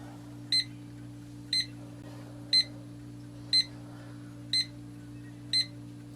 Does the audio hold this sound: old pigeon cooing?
no